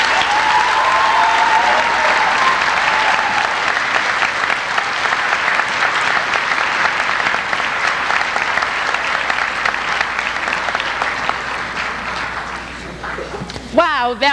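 An audience at a Martin Luther King Day community walk event gives a long round of applause, a sustained wash of clapping that fades slightly near the end, with voices mixed in.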